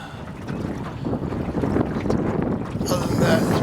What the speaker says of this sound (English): Wind can go to you know where